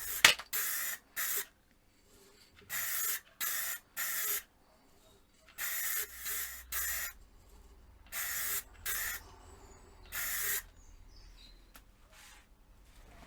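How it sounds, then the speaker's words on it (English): An aerosol can with a can gun handle sprays lacquer stain onto a pear wood vase in a series of short hissing bursts separated by pauses, fairly close, with faint clicks and quiet background between passes. "Now I find it much easier spraying with one of these can gun handles on."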